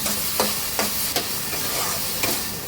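Pumpkin with sugar is stir-fried in a pan until dry, a loud constant sizzle broken by regular spatula scrapes every half second or so.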